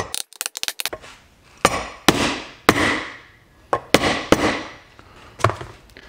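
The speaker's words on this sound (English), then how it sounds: "When I use this block of wood, I can tell if the seal is going in straight or not" An engine seal on a 295cc Robin EH-29C engine from an EZGO TXT golf cart is tapped into place with a block of wood, giving about a dozen sharp, close knocks at an uneven pace with short rings between them.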